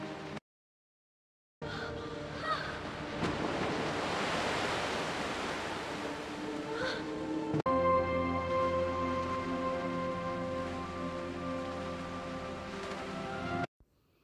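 A strong water current churns with waves in a loud, continuous rushing roar. The wash cuts out briefly near the start and stops abruptly at the end.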